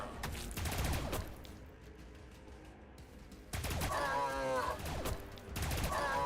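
Gunfire in Warhammer 40K Battlesector, bursts of rapid weapon fire opening and closing the stretch with a quieter lull between, crackling volleys layered with a warbling tonal effect in the later bursts.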